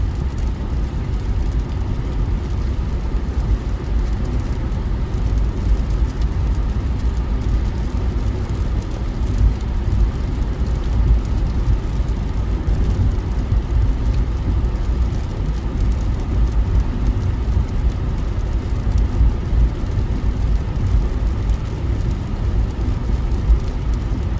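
Steady low rumble of a truck and surrounding traffic on a multi-lane road, continuous engine and road noise heard from inside a vehicle, droning without a break.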